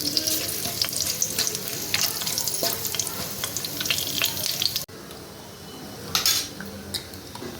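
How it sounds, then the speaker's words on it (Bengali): Dried red chilies, cumin seeds and bay leaves spluttering in hot white oil, a loud dense crackle with metal spoon clinks against the pan, then quieter frying after a brief cut with a couple more scrapes. "তেলের ওপর আমি শুকনো লঙ্কা জিরে আর তেজপাতা ফোড়ন দিয়ে দিলাম"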